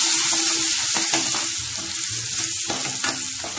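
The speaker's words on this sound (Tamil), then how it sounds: "நான் நிறைய பூண்டு எடுத்திருக்கேன். போட்டு நல்லா வதக்கிக்கோங்க." A generous amount of garlic sautés in a hot pan, a close, steady frying hiss broken by occasional scrapes and taps of a stirring spoon, with no voices.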